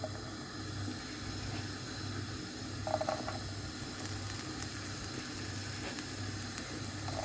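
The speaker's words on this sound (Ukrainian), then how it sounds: "Розігріла сковорідку, на неї наливаю олії трошки і викладаю цибульку." Steady, faint sizzling and hissing of chopped onion frying in a little oil in a heated pan, with a low hum underneath and no talking.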